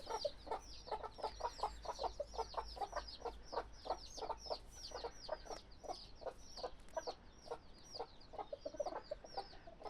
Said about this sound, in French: Les coqs qui arrivent à se battre avec René le coq à travers le grillage.